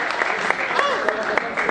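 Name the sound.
audience applause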